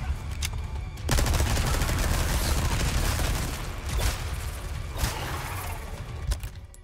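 Sustained gunfire from a firefight in Resident Evil 4 Remake, with rapid, dense shots running almost continuously across the stretch, mixed with mechanical clatter and loud up close.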